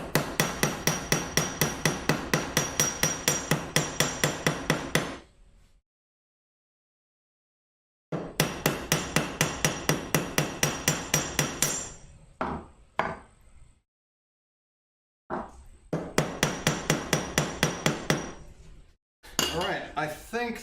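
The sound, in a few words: hammering wood for a shadow box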